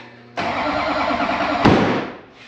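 An LB7 Duramax diesel engine cranks briefly and then fires up, settling into a loud, steady running clatter with a sharp burst partway through before easing off, close and clear with no talking.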